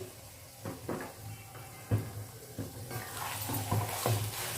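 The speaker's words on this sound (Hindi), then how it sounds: "और इसे भी मैं अच्छी तरह से फ्राई कर लूंगी।" Beef fries in a pot with onions, giving a soft continuous sizzle broken by several scraping spoon stirs and clinks of metal against the pot, heard close with no talking.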